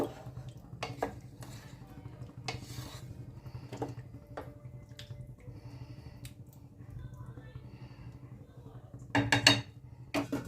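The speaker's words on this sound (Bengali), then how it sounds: "এবার আমি কড়াই ঢাকনা দিয়ে দিলাম" A lid set onto a kadai of vegetables simmering in water for Bengali singhi fish curry: scattered metallic clinks and clatters over a low steady hum, with a louder cluster of knocks near the end.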